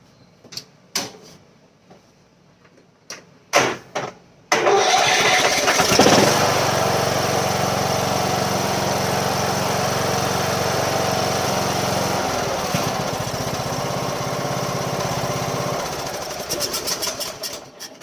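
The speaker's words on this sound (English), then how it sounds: "at least we know we got to run the mower. Got a good engine" A few clunks and knocks, then a Craftsman 2600 riding mower engine starts and runs loud and steady for over ten seconds, idling close by.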